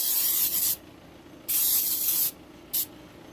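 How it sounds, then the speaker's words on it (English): Cooking spray hisses onto a George Foreman grill in three bursts, two longer sprays followed by a short final puff, close and crisp. "I've got some baking spray, some cooking spray."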